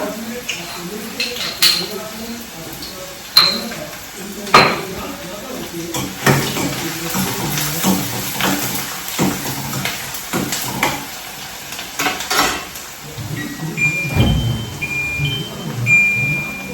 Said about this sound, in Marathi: असं फ्राय होऊन गेला लसूण कांदा असं फ्राय होतोय छान